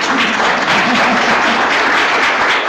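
An audience applauds at a state board of education meeting, with dense, steady clapping filling the room throughout a short stretch, and no voices over it.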